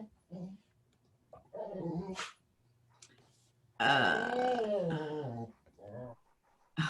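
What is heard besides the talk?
dog reacting to voices on the computer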